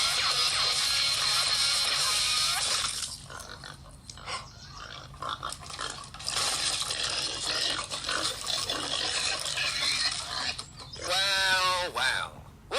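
Cartoon pigs oink and squeal in an animated scene, with busy, layered sound throughout and a sharp, rising squeal near the end.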